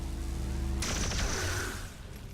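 Pistol fire in the video game SpaceCOM: a sharp burst of shots cuts in after a low steady hum, then rings out and fades.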